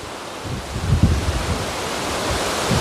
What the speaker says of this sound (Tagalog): parang sobrang lakas naman ng hangin